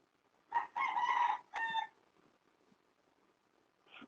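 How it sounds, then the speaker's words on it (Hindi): A rooster crows once, fairly close and loud, in a few strong bursts lasting about a second and a half, then quiet background follows with no talking. "कहाँ मुर्गा बांग दे रहा है जी?"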